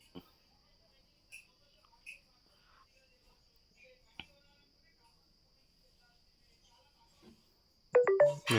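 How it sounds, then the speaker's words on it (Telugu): A phone notification chime sounds near the end as a short burst of bright, rising tones, preceded by a quiet room with only a faint steady whine and a few scattered soft clicks. "నోటిఫికేషన్ కూడా వచ్చింది"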